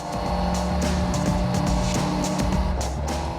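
A 1998 Yamaha Fazer motorcycle being ridden, its engine droning loud and close with a steady rising and falling hum and no talk.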